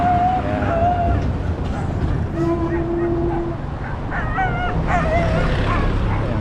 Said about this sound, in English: And that dog is barking.